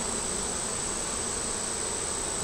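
Honeybees buzz at the entrance of a hive in hot weather, a dense continuous drone close by, steady and loud, with no voices over it.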